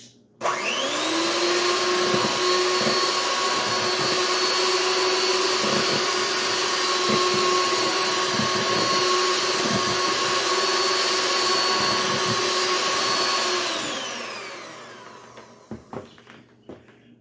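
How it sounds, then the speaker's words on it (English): An electric mixer on high speed beats meringue with sugar in a bowl. It spins up, holds a loud, steady whir for about thirteen seconds with faint rhythmic scraping, then winds down, followed by a few soft knocks. "Once the mixture is foamy like this, I'm going to increase the speed on high."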